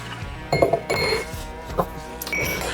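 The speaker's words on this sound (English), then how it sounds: "All right, and then we'll grab our large ice cube." A large clear ice cube for an Old Fashioned whiskey cocktail knocks and clinks against glass in a few close, sharp bursts, with bar handling noise in between.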